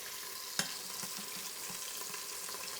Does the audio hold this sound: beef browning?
yes